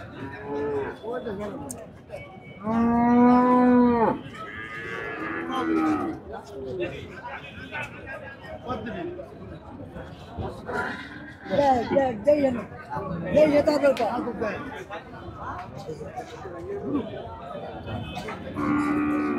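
A loud cow moo rises out of crowd chatter at a cattle market in Faridpur, followed by further lowing calls amid a busy murmur of voices and bustle.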